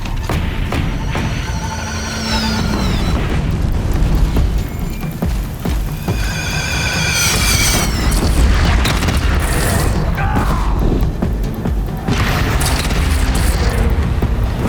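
Cannon fire and explosions erupt in a Horizon Zero Dawn battle, heavy booms rolling over a constant noisy din of combat with horse-like whinnies and shouted voices mixed in throughout.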